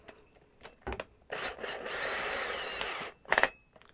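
A power drill runs with its bit in for a steady whirring burst of about two seconds, preceded by short clicks and chuck rattles and followed by a brief sharp rattle.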